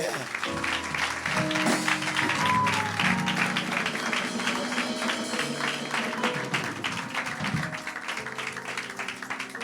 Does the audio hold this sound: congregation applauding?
yes